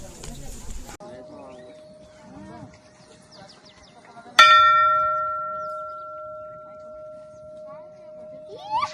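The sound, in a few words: temple bell ringing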